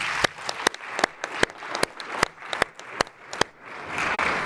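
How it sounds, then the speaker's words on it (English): Audience applause for a guest speaker at a dental talk, a few seconds of steady clapping from a room of people with sharp individual claps standing out, close and moderately loud, no talking. "A round of applause for Elijah Desmond."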